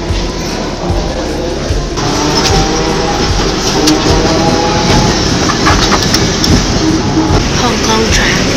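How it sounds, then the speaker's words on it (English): A Hong Kong tram runs along its rails with loud, close rumbling and rhythmic clatter of wheels over the track, building steadily after a quieter start. "Hong Kong trams."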